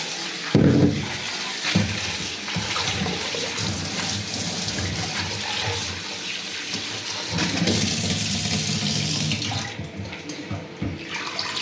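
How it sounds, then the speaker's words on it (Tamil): Water sloshes and splashes in a vessel as arai keerai greens are rinsed by hand, a continuous close wet swishing with a few louder splashes, no talking. "இன்னும் ஒரு தண்ணி ஊற்றி கழுவிடணும்."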